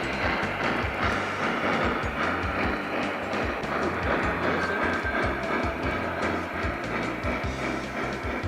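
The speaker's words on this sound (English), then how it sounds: "other club members were running some fabulous trains in the other room" Model trains running on a club layout, a steady close rumble with quick, irregular clicking of wheels over rail joints throughout, with no voices.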